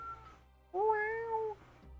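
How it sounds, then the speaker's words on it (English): A single cat meows once, a clear, drawn-out tonal call of moderate loudness, heard alone over a low steady background hum. "I hear you, cat."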